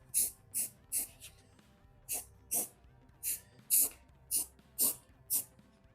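Rust treatment is sprayed onto a Volkswagen Beetle in about a dozen short, hissing bursts at an uneven rhythm, close and fairly quiet, with near silence between bursts.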